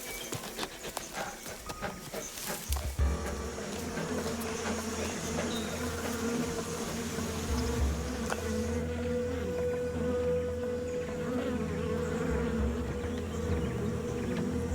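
Bees buzz densely around a bear climbing high up a tree, a steady insect drone that thickens after the first few seconds and holds close and continuous to the end, with no talk.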